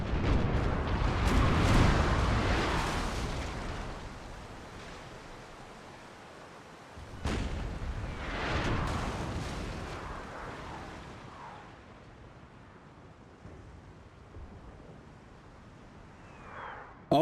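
Warship cannons booming across open water in Napoleon: Total War's Mediterranean fleet battle, two big rumbling volleys several seconds apart with long noisy decays, distant and washy, no talk over it.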